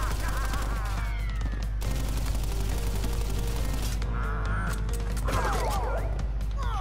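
Bullets fire in Crash Bandicoot N. Sane Trilogy during the Pinstripe Potoroo boss fight, a steady dense rattle under continuous game music and effects, with no talk.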